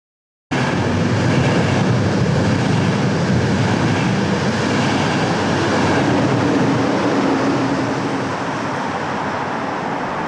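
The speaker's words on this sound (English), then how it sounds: "Despite my having hopped a train" A train rolls along rails in a loud, steady roar with a rumbling rattle of wagons, starting abruptly and continuing close and unbroken for about ten seconds, easing slightly near the end, with no talking.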